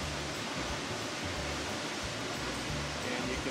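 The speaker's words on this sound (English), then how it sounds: "you can hopefully hear the rumble of the waterfall in the background over there" Steady broadband rumble of Havasupai waterfall roaring in the background, continuous and even throughout, with faint low murmurs beneath.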